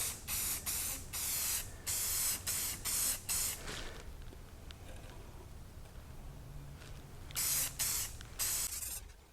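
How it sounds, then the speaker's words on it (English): Clear coat sprayed from an aerosol can onto a painted towel bar: a run of short, loud, close hissing bursts with brief gaps, a quieter stretch in the middle, then three more bursts. "I'm going to go ahead and put this clear coat on"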